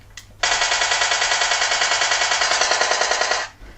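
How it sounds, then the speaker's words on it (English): Rapid automatic gunfire from a mobile shooter game, fired through a trigger gadget, rattles in one continuous loud burst of evenly spaced shots for about three seconds before cutting off. "Non-stop shooting."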